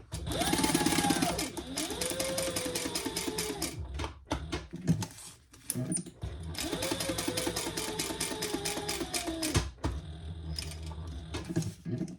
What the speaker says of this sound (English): let's top stitch that